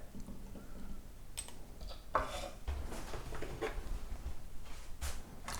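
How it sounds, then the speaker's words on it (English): A spoon scoops brothy beans and greens onto bread, with soft scrapes, clinks of metal on a pot and a few wet plops, fairly quiet and close. "I'm just going to scoop this on top of the bread."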